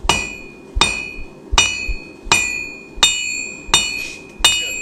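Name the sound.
hammer blows forging an 8 inch nail on an anvil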